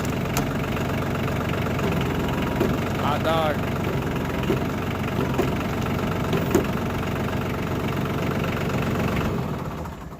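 A tractor engine idles in a steady, loud, close rumble that runs unbroken throughout, while people talk over it.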